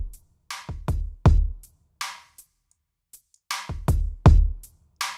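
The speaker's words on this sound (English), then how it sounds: "I made a drum kit that I included 5 years ago with Signs of Life." Sampled drum kit from the Signs of Life library plays a sparse groove of punchy kick and snare hits with short decays, separated by gaps of silence, close and dry with no talk.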